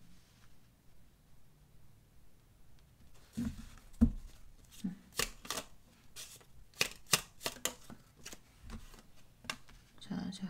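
Tarot cards are shuffled close by in a quiet room, a run of crisp riffling and slapping bursts in uneven rhythm, starting softly and growing busier toward the end.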